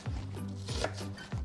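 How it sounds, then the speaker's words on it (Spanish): An onion is chopped finely with a knife on a board, giving four sharp, evenly spaced knocks about half a second apart, close and moderately quiet, with no talking. "Empezamos picando la cebolla finamente"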